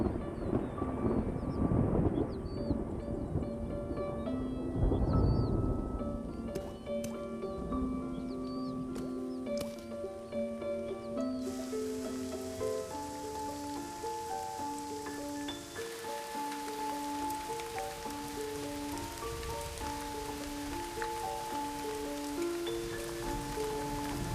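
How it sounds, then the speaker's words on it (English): Rain finally arrives over the Liuwa plains after drought, with thunder: a dense hiss of falling rain and deep rumbling bursts fill the first half before music takes over and the rain fades beneath it. "the rains finally arrive."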